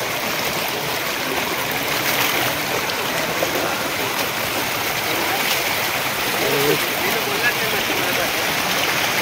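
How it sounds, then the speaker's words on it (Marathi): A village waterfall near Boisar, falling from deep within a gorge, gives a continuous, close, loud rushing roar of water that stays even from start to finish. "हा धबधबा."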